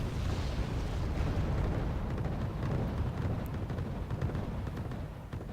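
An artillery barrage in the Wargame Red Dragon strategy game: heavy, rumbling explosions roll together into a sustained thunderous din that slowly eases off toward the end.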